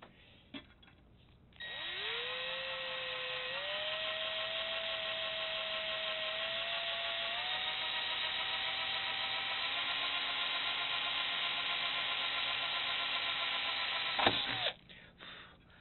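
An electric drill bores a guide hole into thick steel rail: a sharp whine climbs after a couple of seconds, holds steady and shrill for about thirteen seconds with slight pitch steps, then cuts off abruptly.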